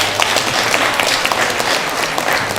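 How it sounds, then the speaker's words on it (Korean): Audience applause at a ceremony naming a Hanbok honorary ambassador, with a gift being presented: a dense, steady wash of clapping filling the whole moment, close and fairly loud with no talk over it. "따뜻한 박수 부탁드리겠습니다"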